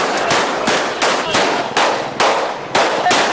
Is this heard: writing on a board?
no